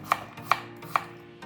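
A knife chops radish into chunks on a cutting board, three crisp, evenly spaced thwacks close by with a quieter fourth at the end, no voices.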